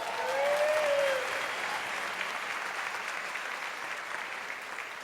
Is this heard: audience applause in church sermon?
yes